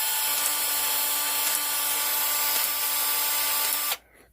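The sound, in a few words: pipe expander tool operating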